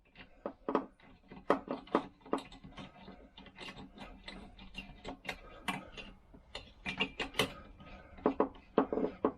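Socket wrench ratcheting as the cylinder head nuts come off a Vespa PX scooter engine during a strip-down, a close run of quick dry clicks and ticks in uneven bursts with no talking.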